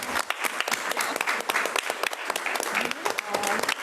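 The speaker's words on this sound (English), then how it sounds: "A round of applause for Mr." Audience at a school board meeting applauding, lively uneven clapping from a room full of people with sharp individual hand strikes, some voices mixed in.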